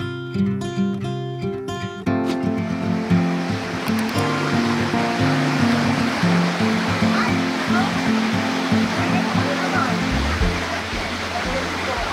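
Strong river current rushing along Paradise Creek Trail in Sequoia National Park, a loud, continuous roar of churning water up close, with a voice speaking over it.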